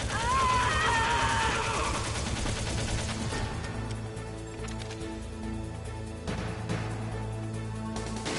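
Gunfire from the video game Metal Gear Solid, a dense burst of rapid shots over a rumbling game soundtrack, with brief spoken voices mixed in.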